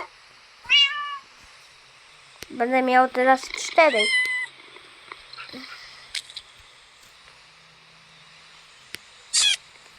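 Cats in the Minecraft game let out several short, clear meows, one near the start, a cluster in the middle and one near the end, under someone talking in Polish.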